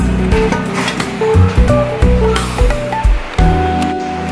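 Running tap water pours steadily over a brand-new grill pan being washed in a kitchen sink, with loud rushing water and scattered clinks and knocks of the metal pan.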